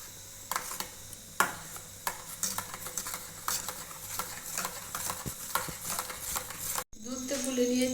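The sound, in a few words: stirring to dissolve milk in a bowl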